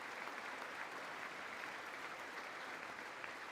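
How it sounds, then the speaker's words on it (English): An audience at the State of the Union address applauds in a steady, distant wash of clapping, quiet and unbroken for the full few seconds. "What are they applauding exactly?"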